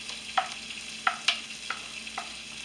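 Onions fry in a pan for a steak and cheese sandwich, a soft sizzle under several sharp scraping clinks of a utensil stirring them, close and intermittent.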